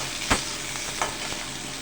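Onions frying in oil for gobi manchurian hiss with a dense, even sizzle, broken by a couple of sharp stirring scrapes near the start and middle, close with no voices.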